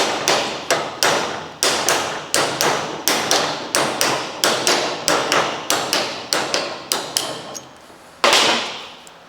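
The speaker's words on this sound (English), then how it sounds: "Now, closing your vise, and a nice little tap." Repeated hammer taps on a steel pin held in a vise during a Daihatsu Hijet S510P rear lift kit fitting, about twenty sharp, evenly paced metallic strikes with a final louder blow, close and without talk.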